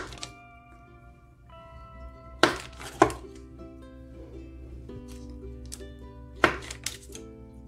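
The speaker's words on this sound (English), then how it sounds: "we're going to take our butter, and we're going to cut it" A knife slices through a block of butter on a board while making beer bread, a few sharp, close thunks spaced apart over soft background music.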